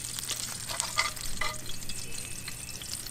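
Bacon fries in a skillet with a continuous close sizzle and spatter, plus occasional scraping from stirring. No one speaks.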